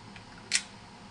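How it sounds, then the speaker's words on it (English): A Vivitar Ultra Wide and Slim film camera fires its shutter once at a slowed rate, with a bulldog clamp attached for weight. The result is a single short, crisp mechanical click against quiet room tone. "it fire shuttered, or the shutter fired, but at a slower rate"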